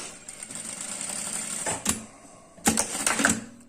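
A Zoje A8000 industrial sewing machine runs a free seam with reverse stitching, giving a steady mechanical whir with two short, louder bursts of rapid stitching near the end. No voice is heard.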